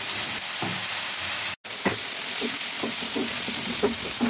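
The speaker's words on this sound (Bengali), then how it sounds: "ধনে গুঁড়ো, হলুদ গুঁড়ো, লঙ্কা গুঁড়ো, জিরে গুঁড়ো এবং সাথে আদা ও টমেটোর পেস্টটাকে ঢেলে দিতে হবে।" Ground spices, ginger and tomato paste sizzle in a hot pan with a loud, continuous frying hiss, broken by a brief cut of silence and followed by repeated scraping stirs.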